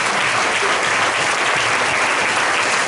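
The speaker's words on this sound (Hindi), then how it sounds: "अपने हाथों से जोरदार ताली बजाएं तो इस मसीह को" Congregation at a church service clapping loudly together, a continuous dense wash of applause from a large crowd, close and sustained throughout.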